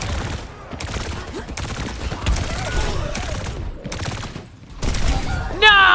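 Rapid bursts of gunfire from a player shooting in a team-based video game, repeated volleys running nearly continuously with brief gaps, loud and close, with game effects and chatter mixed in.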